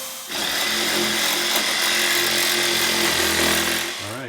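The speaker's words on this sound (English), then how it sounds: "you can see the holes have been drilled out" A power drill runs loud and steady, enlarging holes in a motor frame plate during a vehicle motor swap, with the tone dipping under load before spinning down at the end.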